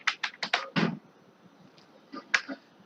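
Fingers type on a computer keyboard while entering text into a Python program: a quick run of crisp, close key clicks, a pause, then a few more scattered keystrokes.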